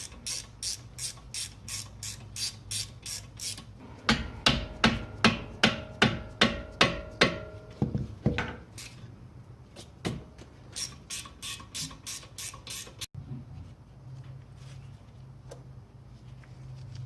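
A hand ratchet clicks steadily while loosening the 17 mm caliper bracket bolts during a front brake rotor job on a Subaru Legacy GT. Bursts of close, rhythmic ratcheting repeat across the stretch, with short pauses between runs.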